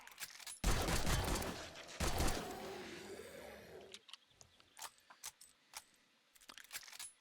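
Gunfire in the 7 Days to Die video game, with a loud sustained burst of automatic shots followed by a string of sharper, separate clinks and impacts.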